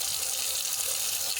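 Water runs in a steady, hissing stream while four deciliters are measured out for mannavaht, a classic Estonian school dessert. The pour is continuous and close, with no voices.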